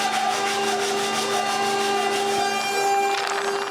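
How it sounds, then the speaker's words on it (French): A CNC machine cuts wooden discs for a wooden piggy bank, giving a continuous high whine with a steady pulsing rasp of the bit through wood, loud and close throughout. "Pendant que le CNC découpe d'autres rondelles"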